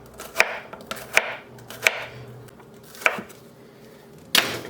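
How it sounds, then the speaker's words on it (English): A knife chops bitter melon into quarter-inch slices on a cutting board, giving five or six sharp, separate knocks at an uneven pace, close and fairly loud, with no one talking. "We are going to chop our bitter melon into about 1/4 inch thick slices."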